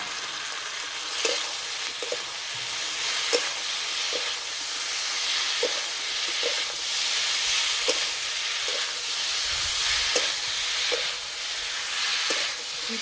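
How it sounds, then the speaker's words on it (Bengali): Potatoes and cauliflower go into a pan of sizzling spice masala for aloo phulkopir dum. A steady, loud frying hiss runs throughout, with faint stirring taps at regular intervals. "মশলা কষানো হয়ে গেছে, এবার আলু আর ফুলকপি দিয়ে দেবো।"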